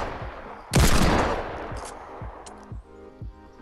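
In Fortnite, a Desert Eagle fires one loud, sharp shot followed by a long decaying tail and a few fainter distant cracks, over a low rhythmic game background.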